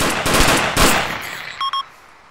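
Rapid bursts of automatic gunfire from the military shooter Arma 2 rattle loudly and close, followed by a couple of sharp single shots and a brief tonal beep before fading.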